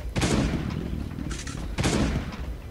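Two heavy shotgun blasts ring out in Last Day on Earth, spaced more than a second apart, each a loud close boom with a short tail. A lighter impact falls between them.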